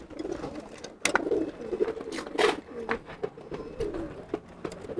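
Pigeons coo loudly and repeatedly up close in a bird-selling setting, with overlapping calls and rustling throughout.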